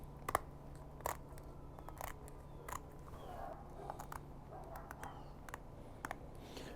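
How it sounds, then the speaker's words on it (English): Kitchen shears snip through the backbone of a flounder on a Gulf pier, a series of crisp, separate cutting clicks at an irregular pace, close and fairly quiet over low background hum. "We're gonna take our kitchen shears right here, and we are just going to cut this bone out right here."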